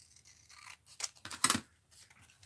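Scissors snip and trim through folded paper during an art and doodle session: a few crisp, close cuts with rustling and tearing between them, heard without speech.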